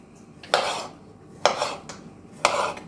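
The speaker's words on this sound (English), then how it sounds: "We have to grind this beet. First I cut it," A knife slicing a beet on a board for Russian borscht, three distinct crisp cuts about a second apart, each a short crunching stroke close up in a quiet kitchen.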